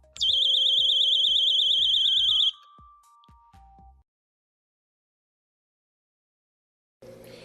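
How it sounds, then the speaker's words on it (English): A loud, shrill warbling alarm from a door stop security device sounds steadily for about two seconds, then cuts off, followed by a few softer descending tones and silence. "When the door opens, it will strike the metal plate, preventing the door from opening and activating the alarm."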